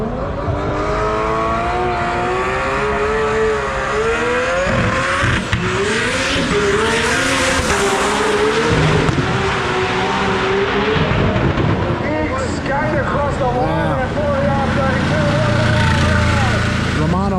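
An Audi R8 engine screams at high revs during a roll race in Sydney, rising and shifting through gears at speed, loud and continuous, with a commentator talking over it.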